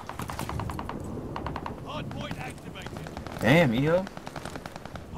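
Rapid automatic gunfire in a ranked Berlin hardpoint match of an online shooter game, sharp bursts rattling steadily through the clip while players talk over it.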